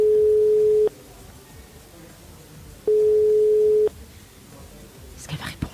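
A French telephone ringback tone purrs twice, each a steady one-second beep with a two-second gap between, over faint background noise before a brief rustle at the end.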